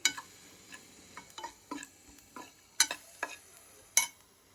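Masala is stirred into a pan of cluster beans for a South Indian poriyal, with scattered spoon scrapes and clinks against the vessel over a faint sizzle, close and sparse.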